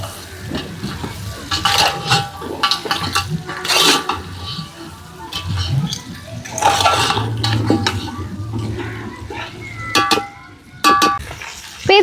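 Crabs being stirred with masala spices in a pot, with spoon scrapes, metal clatter and a low sizzle running steadily throughout, no talking.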